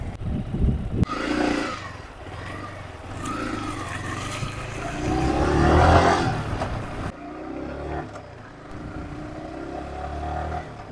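Yamaha R15 motorcycle, a six-speed bike, pulling away in first gear: a mid-pitched engine rises and revs up and down steadily close by for about ten seconds, with no talk over it.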